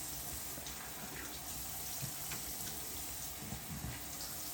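Water runs steadily from a tap into a sink during a rinse while shaving with a Merkur 34C safety razor, a faint, continuous wash with small splashes.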